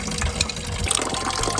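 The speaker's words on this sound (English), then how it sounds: "Don't take it off while the coolant's draining, otherwise you get covered in it." Coolant draining from a 2003–2007 Ford Powerstroke 6.0L radiator, a steady close splashing gush of liquid that runs continuously without pause.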